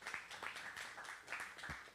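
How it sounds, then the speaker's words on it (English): A round of applause for Charlie Ortiz at a real estate wholesaling event, steady dense clapping from a crowd lasting about two seconds, fairly faint and distant with no talk over it. "let's give Mr. Charlie Ortiz a round of applause."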